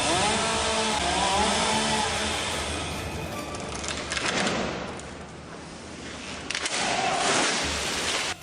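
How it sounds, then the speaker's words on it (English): A chainsaw cuts a tree in a snowy outdoor setting. The engine whines loud and close, sags as the blade bites into the wood, then revs back up near the end. "The chainsaw seems to be good, but then encounters a runaway saw scene."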